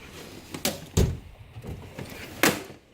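A tool drawer is pulled open with a few sharp knocks and a sliding clatter, close and moderately loud, with quiet gaps between the bumps.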